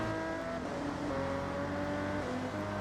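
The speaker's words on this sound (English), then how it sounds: "my car is so much quieter than every other car" Several race car engines drone steadily in a Forza Motorsport 2 British Sports Car Championship race, with Aston Martin DB9s and TVRs holding a sustained layered hum and slight pitch shifts, no talk.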